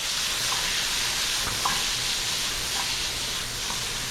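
Blanched, shocked green beans sauté with garlic in a hot pan over a flame, giving a steady, close sizzle and hiss with faint stirring clinks throughout.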